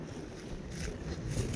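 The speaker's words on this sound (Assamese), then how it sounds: "বহুত বতাহ মাৰি আছে এইটো ঠাইত।" Strong wind sweeps across an open bird wetland, a low rushing buffet that rises in gusts and rumbles against the microphone, steady and fairly faint, with no talking.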